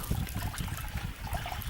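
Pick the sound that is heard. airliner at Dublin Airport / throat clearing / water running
water running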